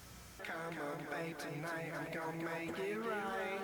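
Singing voice with a single delay echo panned to the left ear, a sustained wavering melodic line with repeats trailing behind it, steady and moderately quiet.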